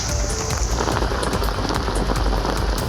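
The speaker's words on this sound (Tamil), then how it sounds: "வேப்பூர், குன்னம், ஆலத்தூர் உள்ளிட்ட இடங்களிலும் 2வது நாளாக கனமழை பெய்தது" Heavy rain falls during a downpour in Tamil Nadu, a dense, loud, continuous hiss of drops hitting surfaces with scattered sharper splashes, no voices.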